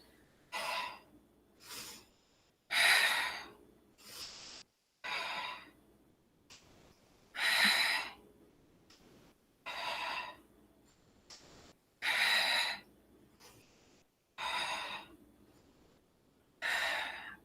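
During a yoga twist, forceful exhaled breaths come one after another in an even rhythm, about a dozen of them, each a short, breathy, close puff separated by quiet pauses.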